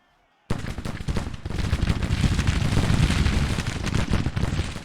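Artillery and massed gunfire rumble through a battle in Grand Tactician: The Civil War, a strategy game. A dense, continuous barrage of booms and cracks starts abruptly and stays loud and unbroken, with no voices.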